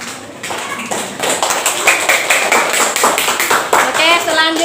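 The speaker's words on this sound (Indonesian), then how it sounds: "Oke, mana tepuk tangannya?" A classroom audience claps enthusiastically for a group reciting hadith, with a burst of quick overlapping handclaps close by and voices mixed in.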